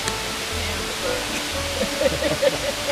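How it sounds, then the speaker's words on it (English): Dills Falls pours in a constant broadband rush behind nearby people, with faint low murmurs and brief small tones over the steady water noise. "Waterfalls behind us."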